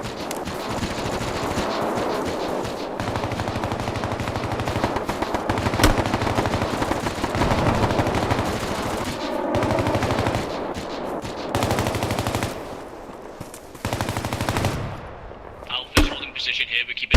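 Sustained machine-gun fire and scattered shots in a tactical war video game, with long rattling bursts at moderate distance and brief pauses. Radio-style voices talk over the gunfire.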